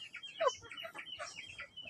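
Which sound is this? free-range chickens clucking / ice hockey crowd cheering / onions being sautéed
free-range chickens clucking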